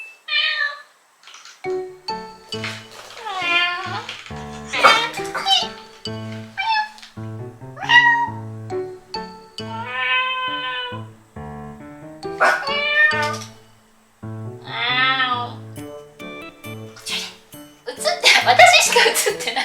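A person's voice imitates a cat, producing a long run of exaggerated meows and yowls in varied pitches, close to the microphone, with occasional laughter and sniffs in between.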